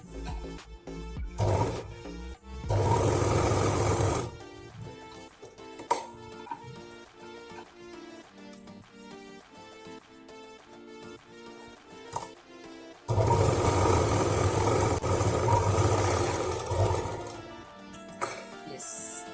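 A sewing machine stitches a ladies' handbag in two long, loud whirring runs, separated by a quieter stretch with brief clicks and faint talking.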